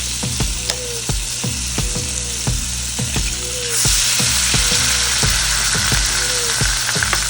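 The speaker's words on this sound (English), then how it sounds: "To start, I have a hot pan with some oil. I'm gonna add my butter. And this is so my butter doesn't burn. We're gonna crack our egg." An egg fries in butter and oil in a hot pan with a loud, continuous sizzle, punctuated by rhythmic clicks and pops roughly twice a second, the hiss brightening midway; no talking.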